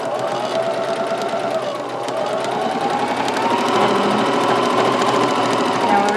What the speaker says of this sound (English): And now we're ready to sew.